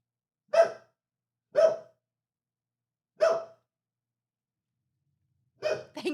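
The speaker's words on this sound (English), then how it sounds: "It's got such a lady bark." Four short, high-pitched barks spaced a second or more apart, close and fairly quiet, with silence between them.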